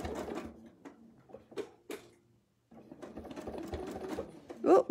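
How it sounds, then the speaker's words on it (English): A sewing machine doing ruler-work quilting on a quilt runs in short close bursts of rapid stitching, pausing briefly in the middle before starting again with a faint voice beneath it. "And now we're gonna sew the opposite way."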